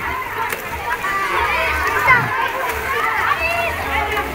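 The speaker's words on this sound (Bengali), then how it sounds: "এখন তারা সুইমিং করতেছে" Children swimming and splashing in an outdoor resort pool, a steady wash of water sloshing with excited kids' voices and crowd chatter mixed throughout.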